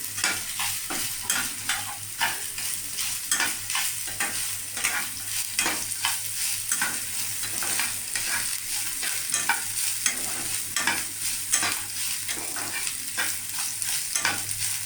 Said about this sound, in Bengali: এবারও সবটা আবার একটু ভালো করে মিশিয়ে নিচ্ছি